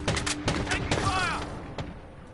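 Bursts of gunfire in Call of Duty Modern Warfare, several sharp shots in quick succession with a whooshing sweep, loud and close.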